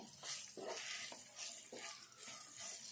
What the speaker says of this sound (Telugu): ఈ కాకరకాయ ముక్కలకు కూడా ఈ సాల్ట్ పట్టేటట్టు అన్నీ కలిసేటట్టు ఇట్లా వేపుకోవాలి